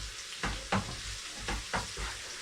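Garlic frying in a pan gives a soft, steady sizzle, broken by several brief clattering stirs at irregular intervals, close and fairly quiet.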